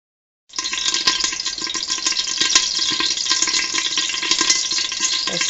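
Mustard seeds pop and crackle in hot oil in a half-covered pot, a dense, steady sizzle with scattered sharp ticks that sets in abruptly and holds at an even, close level.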